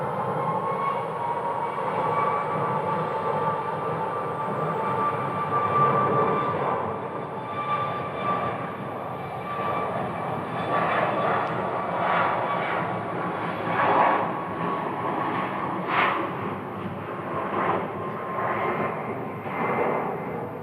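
A jet airliner roars on the runway at Phoenix Sky Harbor airport, a loud, sustained engine rumble with a steady whine heard from a distance, no talk over it.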